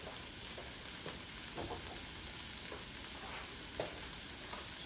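Cauliflower cooks in a pot and a spoon stirs it, giving a quiet, steady sizzle with soft, irregular scraping strokes scattered through the bubbling.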